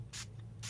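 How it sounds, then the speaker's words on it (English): Two short, loud hissing bursts of a spray can coating an art journal page in mixed media work, one at the start and one at the end, close up over a low steady hum. "I feel like I need to spray this again"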